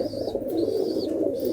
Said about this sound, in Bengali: সব নর পায়রা এগুলো